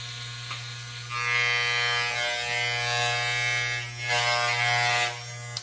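A steady electric trimmer buzz runs throughout, swelling louder twice as it presses closer, with no talking.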